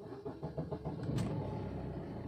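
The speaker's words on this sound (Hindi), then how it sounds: "गाड़ी आपको स्टार्ट करा के दिखा देता हूँ मैं" A Maruti Swift car engine is started: a short run of rhythmic starter-cranking pulses, then the engine catches and settles into a steady, close idle with a brief higher burst.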